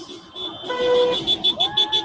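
Car horns beep in a quick series of short honks near the end, after a longer horn tone, with traffic noise around them, outside a Canton town hall meeting during a protest.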